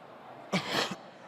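One short, fairly faint cough from a man presenting on ecommerce, a single burst in an otherwise quiet room.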